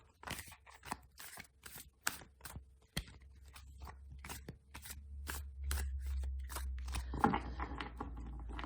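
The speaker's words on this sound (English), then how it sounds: "Let me do another shuffle." A run of crisp, rapid tarot card riffles and flicks in quick bursts, close up, followed by a steadier rustling shuffle with a low background hum.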